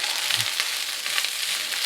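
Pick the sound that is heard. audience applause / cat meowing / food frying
food frying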